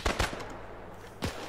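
Machine gun fire in an Arma 3 World War II battle at Remagen: two quick sharp bursts of shots, a short gap, then another burst, fairly close and with no talk.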